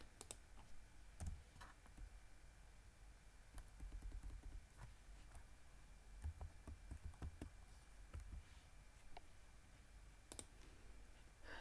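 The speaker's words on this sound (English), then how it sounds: "I just click OK here" Quiet, sparse computer mouse clicks, sharp and isolated, scattered over a faint background during work in Python and Power BI.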